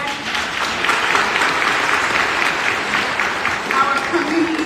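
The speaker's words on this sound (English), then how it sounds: "Let's give them a round of applause" An audience at a recreation center grand opening press conference claps continuously and fairly loudly. Voices mingle with the applause.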